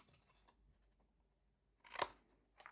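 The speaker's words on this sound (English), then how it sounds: "Cut off that single piece." Scissors snip through a piece of paper during a stamping craft project, giving a faint crisp cut followed by a softer snip in a quiet room.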